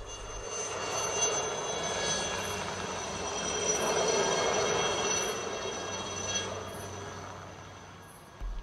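A crop-spraying helicopter passes over early in the morning, giving a steady, broad droning roar that swells and eases slightly over several seconds, heard at a distance with no voices.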